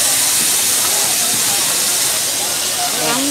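A large pot of rice porridge boiling hard at a temple festival kitchen, giving off a loud, steady steaming hiss throughout, with faint voices in the background.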